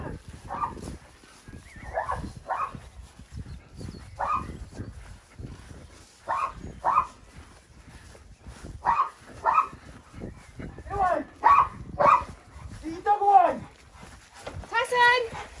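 A dog barks and yelps in short bursts, growing more frequent toward the end, with people talking nearby.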